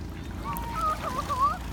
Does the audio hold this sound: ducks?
yes